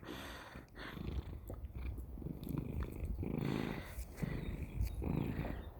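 Gary, a cat met at Chimayo, purrs steadily and close up in a low rumbling rhythm, with faint soft sounds around.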